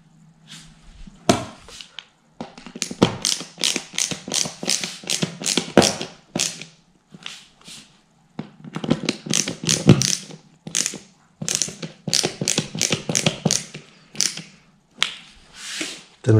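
Screws being driven by hand into an IKEA Kullen chest of drawers during assembly, heard as close, repeated bursts of ratcheting, clicking turns in irregular runs separated by short pauses.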